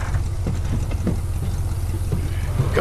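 A car engine idles in The Last of Us video game, a steady low rumbling throb with even pulsing, close and constant throughout.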